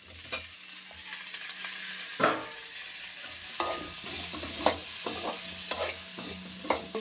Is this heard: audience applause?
no